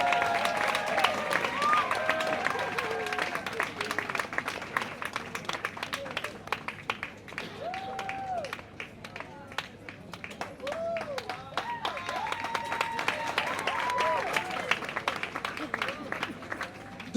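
Audience applause at a fashion design college award ceremony, continuous clapping and crowd noise, with voices and a sung or announced tone weaving over it throughout.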